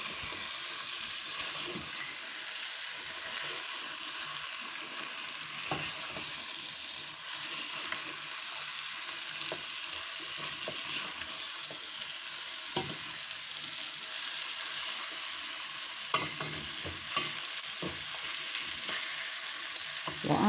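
Jamaican curried goat sizzling in a pan over turned-up heat while a spoon stirs it, a steady close frying hiss broken by scattered scrapes and clicks, with no talking.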